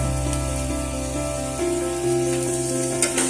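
Onions sautéing in a pan with turmeric, asafoetida and salt, a constant close crackling sizzle over a steady hum, with faint stirring touches and no voices.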